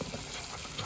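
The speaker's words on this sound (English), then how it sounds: "We are going to add in some water." Water poured into a cooking pot while preparing traditional Ugandan food, a steady broadband rush with faint sizzling texture throughout the short moment.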